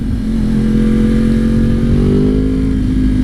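A Yamaha R1 sport motorcycle's engine revs close by, loud and steady. Its tone rises smoothly as the throttle opens, with no gear changes and no talk.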